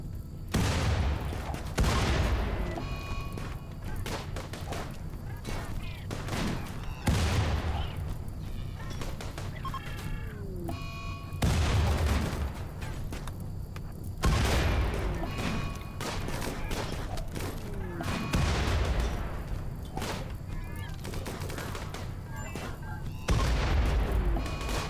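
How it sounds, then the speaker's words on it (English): Grenade blasts in the video game Rimworld: heavy booms land every few seconds amid a continuous rattle of gunfire and combat noise, with a voice faintly under the din. "Oh, damn, those grenades."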